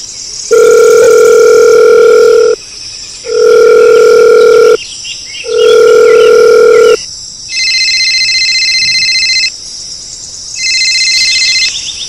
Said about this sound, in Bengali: মদনকে ফোনটা করি।